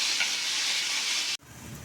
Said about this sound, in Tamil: இந்த தக்காளி, வெங்காயம், முள்ளங்கி எல்லாம் ஒன்று சேர்ந்து வதங்கி வரட்டும்.